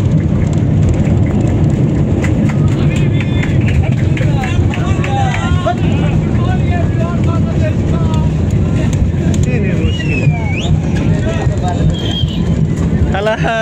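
An airliner touches down on a wet runway at Dhaka airport after rain, a steady loud roar of engines and rushing air heard from inside the cabin, with people talking under it throughout.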